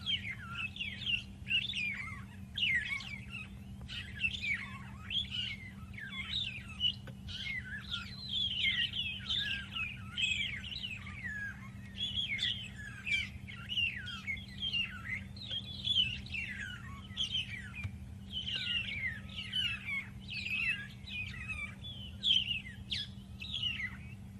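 Repeated clear, whistled magpie shrike calls in a lively morning chorus during the rains, phrases coming in bursts over a low steady hum, with no talking.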